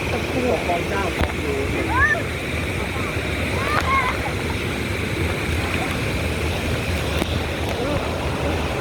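The Khlong Chao waterfall stream on Koh Kood roars in a steady, dense rush of falling and churning water, with faint voices and people at play mixed into the constant flow.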